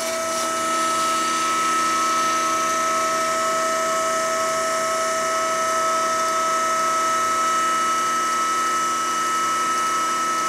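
A hydraulic radius bender, with its pump running on high-pressure lines, bends a weld test piece clamped in the machine. It gives a loud, constant mechanical drone with a fixed hum and no breaks or distinct impacts.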